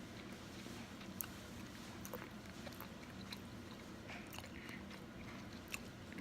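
Someone bites into and chews a mushroom burger, heard as faint, scattered soft crunches and mouth sounds over a steady low background hum, with no talk.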